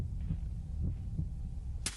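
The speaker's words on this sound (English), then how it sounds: "Heartbeat." Heartbeat effect in a pop song, a soft low thumping pulse repeating at a steady rhythm over a faint hum, quiet and muffled.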